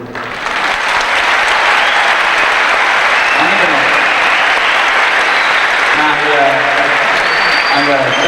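Sustained audience applause fills a hall at a Tamil stage event, dense and steady from start to finish, with a few voices murmuring beneath the clapping.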